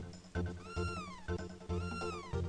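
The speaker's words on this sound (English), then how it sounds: "Your cat's running away because you haven't been feeding it!" A cat meowing in the Chrono Trigger video game, two clear rising-and-falling meows with short chirpy onsets, close and moderately loud with no talk.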